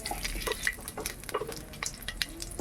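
Whole cumin seeds, with a bay leaf and a dried red chili, sizzle and crackle in hot oil as they are stirred in a pan, close up with steady bright popping.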